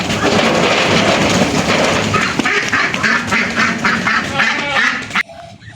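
A group of jumbo Muscovy ducks from Blitar quacking in repeated, overlapping bursts close by, ending abruptly in near quiet.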